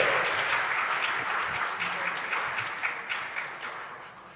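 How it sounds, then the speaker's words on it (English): Sustained audience applause fills a hall at the official launch of the Nigeria Gender County Programme, a dense, even wash of many hands clapping that slowly tapers off without any voices. "Applaudissez, s'il vous plaît."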